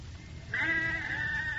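A single sheep gives a long, wavering bleat, close and clear over a low background hum.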